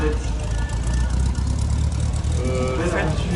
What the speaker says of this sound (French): C'est un Dodge Ram de 86.